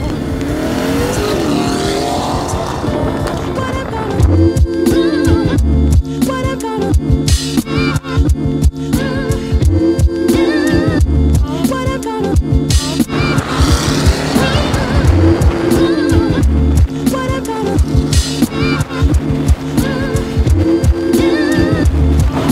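A Mercedes-AMG GT S fitted with a straight pipe turboback exhaust roars loudly and close, revving hard in repeated aggressive bursts with crackles between throttle blips.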